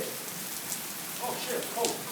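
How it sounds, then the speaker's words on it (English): Heavy rain pours down during a thunderstorm, a steady broadband hiss of drops on surfaces throughout, with faint voices briefly rising over it. "Okay, now it's just rain."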